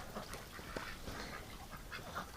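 Ducks in a snowy winter pen give several scattered quacks and calls over steady outdoor background noise, fairly close and moderately loud, with no talking.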